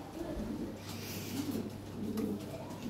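Lahore siraji pigeons, big-sized top-quality birds, coo in low repeated throaty phrases close by, a steady murmuring rhythm over a constant low hum.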